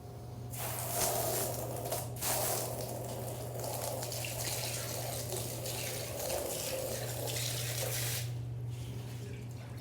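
Water runs steadily from a hose into an animal's bowl at a zoo, a continuous close splashing flow with brief pauses and a low steady hum beneath.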